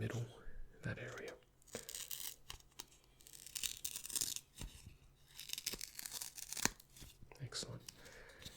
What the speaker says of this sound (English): we're just going to make a rip down the middle